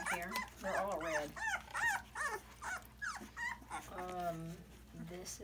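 Several red and white puppies whimpering, yipping and growling in a close, busy jumble, with a person talking over them throughout.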